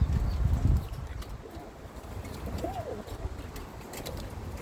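Birmingham Roller pigeons coo softly in the background, with a brief thumping flutter at the start and quiet ambient noise throughout.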